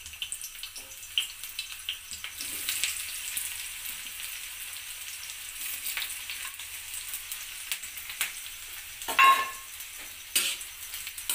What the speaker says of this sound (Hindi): अब मैं डालूंगी इसमें जो मैंने प्याज काट के रखी थी